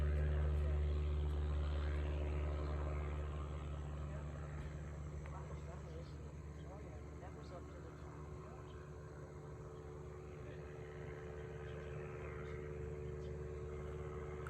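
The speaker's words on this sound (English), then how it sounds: "Excuse the plane in the background." An airplane flies overhead in the background, a steady low droning rumble that eases off slightly after the first few seconds while a person talks continuously over it.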